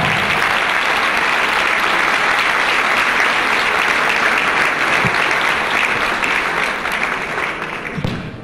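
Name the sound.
audience applause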